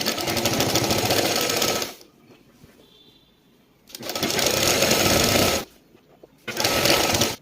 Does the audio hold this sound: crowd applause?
no